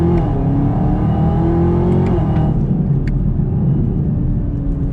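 A 2019 Camaro ZL1 with a 10-speed automatic in manual mode pulls hard in second gear, its loud, close engine roar climbing steadily before a brief dip in pitch, then droning on with no talking.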